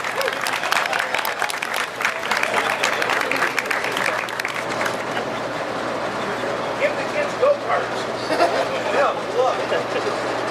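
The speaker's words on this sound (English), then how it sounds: "Give him a big round of applause." Audience applause at the Joker media day ceremony, a broad crowd clapping steadily with cheers throughout, a constant low hum underneath and some voices mixed in.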